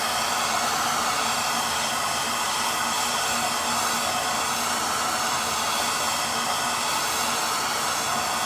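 A gas torch roars steadily and loudly at close range while heating mild steel roll cage plates for an 1988 Mustang, a continuous broadband hiss with no pauses.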